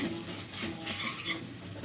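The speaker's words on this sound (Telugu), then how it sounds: "అందుకని మంచిగా వేపుకోవాలి అల్లం వెల్లుల్లి పేస్టు" Ginger-garlic paste being fried in a pan for a ridge gourd tomato curry, with soft sizzling and a few scraping stirs of a utensil. It is quiet and close, with no voices.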